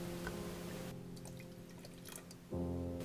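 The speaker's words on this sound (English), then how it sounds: "I always use a little bit of water to make sure I get every last bit of sauce out of my can." A little water poured into an emptied tomato sauce can, a short trickle and splash, then a louder ringing clatter of the metal can toward the end, with no talking.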